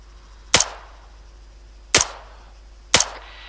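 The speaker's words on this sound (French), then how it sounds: "Ta balle éclate juste à côté." Gunfire in the military game Arma 3 on Altis: three sharp, isolated shots with short decaying tails, spaced about a second apart against a low background hum, no talk.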